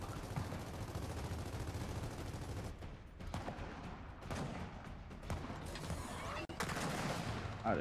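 Dense video-game gunfire rattles almost nonstop for the first few seconds, then continues in bursts and single shots with brief gaps, loud and close, with faint talk underneath.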